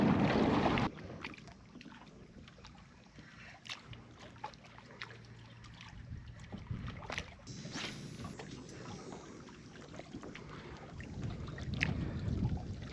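Kayak drifting on the current near jetty rocks, with gentle water lapping and trickling against the hull, soft wind rumble on the microphone and scattered small knocks throughout.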